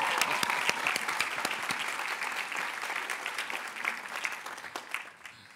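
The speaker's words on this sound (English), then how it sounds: "You can applaud again" Commencement ceremony audience applauding, a dense sustained wash of many clapping hands that stays steady before tapering off near the end.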